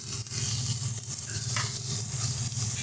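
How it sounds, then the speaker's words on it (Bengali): Chopped tomato stirred into a sizzling fried spice paste in a pan while cooking paneer chaap, a continuous low sizzle with scraping stirring strokes, close and fairly quiet, no talking. "টমেটোটা দিয়ে ভালো মতন করে মশলার সঙ্গে মিশিয়ে নেব"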